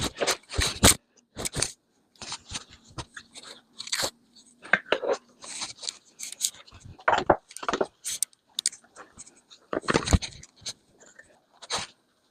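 Irregular bursts of rustling, crunching and clattering, like litter and hay being scooped and shuffled around a cage, with pauses between.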